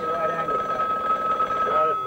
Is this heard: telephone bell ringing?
yes